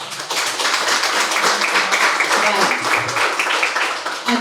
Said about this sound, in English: Round of applause for those answers